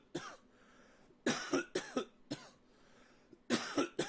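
Someone coughs in several harsh bursts: one early, a cluster of three in the middle, another lone cough, then a final double cough, all close and loud with quiet gaps between.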